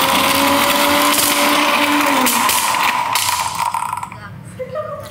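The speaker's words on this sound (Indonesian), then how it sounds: "kita blender ulang" Kitchen blender whirring loudly as it re-blends a mixture with seedless tamarind, a steady motor drone with a shifting pitch that slows and rattles toward the end.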